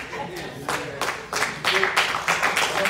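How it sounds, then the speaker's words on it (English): Church congregation clapping hands in praise, the claps growing denser and louder over a few seconds into a steady, overlapping applause. "Come on, clap your hands."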